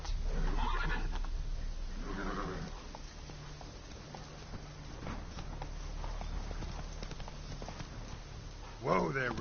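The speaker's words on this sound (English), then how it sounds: "Whoa there, Roach." The horse Roach in The Witcher 3 gives a clear neigh and a later whinny, with hoof clip-clops in between, while someone speaks over the game sound.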